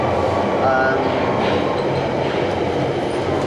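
A Waterloo and City line underground train rumbles through a deep tube tunnel, a continuous loud roar with faint wheel squeal and clatter as it slows, while a voice talks over it.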